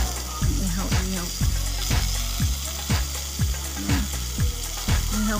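Samgyupsal pork sizzles on a grill at a hotpot and grill restaurant, a steady frying hiss punctuated by regular low thumps and faint background chatter.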